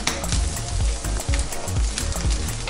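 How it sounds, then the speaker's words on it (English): Onions and garlic sizzle in hot oil in a pan for Peruvian lomo saltado, a loud, close crackle with repeated short bursts and spatters over a brief stretch, no voices. "We are gonna add in some oil. And to this, we're gonna add in the onions."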